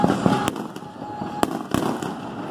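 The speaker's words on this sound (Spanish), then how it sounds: "Esos son los cohetes, los fuegos artificiales." Fourth of July fireworks over Chicago burst in three sharp cracks spaced about a second apart, with a low crackle and distant rumble between them.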